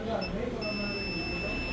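A washing machine's indicator buzzer, on a unit being repaired for an on/off indicator fault, gives a steady high electronic tone that starts briefly, pauses, then holds, with talking underneath.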